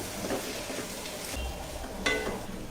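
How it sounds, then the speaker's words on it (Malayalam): Spatula stirring scrambled egg and cabbage in a hot pan, a steady low sizzle with a few soft scrapes and one sharper clink of utensil against the pan. "ഇനി ഇതിലോട്ട് ആ ക്യാബേജും കൂടെ മിക്സ് ചെയ്യുക"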